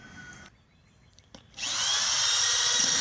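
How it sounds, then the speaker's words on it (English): After a brief quiet pause with a small knock, a power drill starts up drilling pilot holes for a sump well installation, running loudly and steadily, close by. "And here's Calvin drilling our pilot holes"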